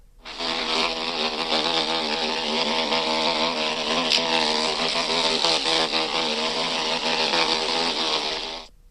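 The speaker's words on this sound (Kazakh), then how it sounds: "Енді зауза қоңыздың дыбысын тыңдап көр." A cockchafer beetle buzzes steadily in flight, a loud, close, continuous drone with a rich harmonic hum that holds level for about eight seconds before stopping, with no other sound.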